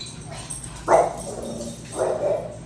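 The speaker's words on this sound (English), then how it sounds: "Sorry for the dog barking." A dog barks twice in the background, two short, moderately loud yaps about a second apart over a low steady room hum.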